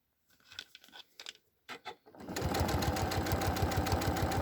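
A sewing machine stitches along the edge of folded paper: a few soft handling clicks and crinkles, then a steady, close, rapid mechanical whir of the running machine.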